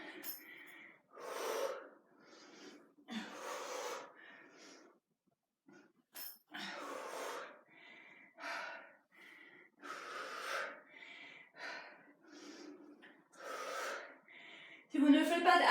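Heavy, rhythmic breathing during a HIIT workout of triceps push-ups, audible gasping inhales and forceful exhales in repeated bursts, close to the microphone, with brief silent gaps between breaths.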